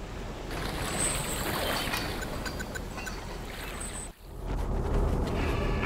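A naval battleship's engines start up in C&C Generals Zero Hour, a steady, loud rumble with a watery wash that dips briefly near the end before returning.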